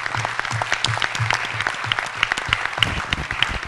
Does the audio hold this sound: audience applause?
yes